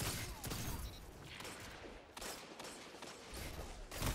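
Fusion rifle fire in the video game Destiny comes as dense, noisy bursts of charged blasts and rapid gunfire, loud and continuous across the short span with a few sharper peaks.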